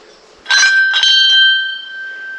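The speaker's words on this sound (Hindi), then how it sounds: "यहाँ पर देखो इतनी सारी घंटियाँ लगी हुई है लाइन से" Metal temple bells hung in a row at a Hindu temple, struck in a quick cluster of clear ringing strikes, loud and close, the last tone fading away slowly.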